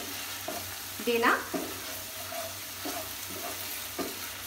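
Rajma masala paste frying in oil in a pan, a steady moderate sizzle with a few scraping stirs near the start and a brief spoken word from a nearby voice.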